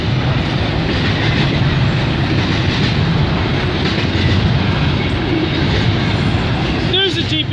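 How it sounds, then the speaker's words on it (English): A long freight train hauling many containers rolls past in the Greater Toronto Area, a steady loud rumble with rhythmic wheel clatter throughout and a squeal near the end; someone talks over it. "This is a long train, a lot of containers"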